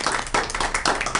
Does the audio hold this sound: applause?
yes